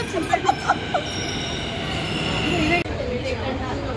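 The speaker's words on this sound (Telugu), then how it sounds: "మెట్రో ట్రైన్ వచ్చింది." A metro train rumbles steadily into Erragadda station, wheels humming and squealing faintly, with a few soft clicks and distant murmuring voices.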